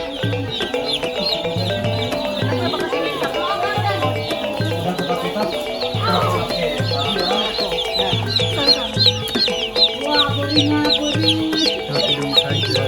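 Many chickens cluck and squawk continuously in a noisy poultry farm coop, a dense chorus of overlapping calls over a rhythmic mechanical thumping.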